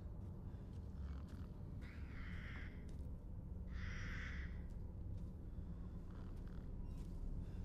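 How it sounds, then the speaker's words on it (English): Crows in Resident Evil Village let out a few harsh, raspy caws, two louder bursts standing out over a low, murky ambient rumble, faint and somewhat distant. "Y'all heard that, right? I hate those damn birds."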